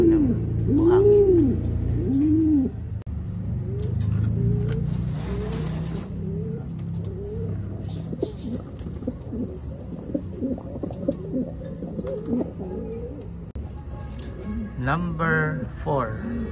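Pigeons coo repeatedly in a soft, rolling rhythm at close range, with a nesting breeder pair kept in a pot lined with sand, while someone talks over them throughout.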